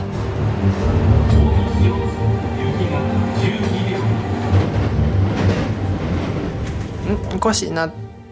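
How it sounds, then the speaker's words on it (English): A runaway Japanese commuter train roars steadily along the tracks toward Amagasaki Station, with dense rumbling and rattling, close and loud, easing slightly near the end. "The train hurtles towards Amagasaki Station."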